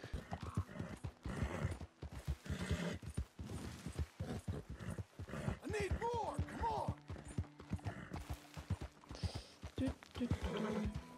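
Horse hooves clip-clop steadily in Red Dead Redemption 2, and a whinny breaks out midway. Someone talks over the horse sounds throughout.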